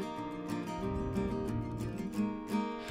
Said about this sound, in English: it was recorded with an old BC Rich acoustic guitar